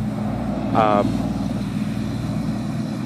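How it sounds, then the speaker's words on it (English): A noisy pickup truck rumbles steadily nearby with a low, continuous engine drone. A brief voice-like sound breaks in partway through. "Noisy-ass pickup truck just drove by."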